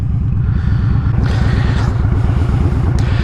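Kawasaki Vaquero cruiser motorcycle being ridden on a sunny day, a loud steady engine rumble with a pulsing low exhaust beat and wind noise, close and continuous, no talk.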